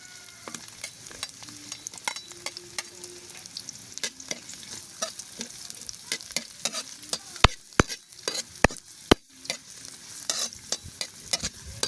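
Garlic and onion sauté in a pan for a native chicken dish cooked in coconut milk, giving a steady sizzle with frequent sharp clicks and scrapes of stirring, close and moderately loud, with no voices.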